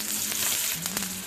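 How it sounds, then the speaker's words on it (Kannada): Mustard seeds crackling in hot oil for a tempering with cumin and chillies: a close, continuous sizzle with a few sharp pops standing out, no talk over it. "ಸೊ ಸಾಸಿವೆ ಸ್ವಲ್ಪ ಚಟಪಟ ಅಂತ ಇದೆ"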